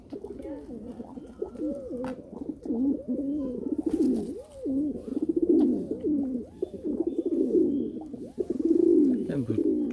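Domestic pigeons coo continuously in soft, rolling low calls, several birds overlapping close by with a steady murmuring rhythm for the whole stretch.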